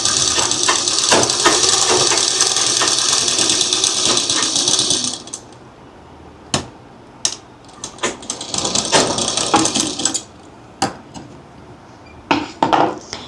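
Domestic sewing machine stitching a seam, running in a steady mechanical whir for about five seconds, then in shorter bursts broken by pauses and sharp clicks of the mechanism.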